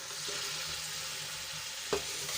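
Pieces of bajra rotla stirred in a pan with a little water, a soft steady sizzle and scraping under a faint background hum, with one sharper clink near the end.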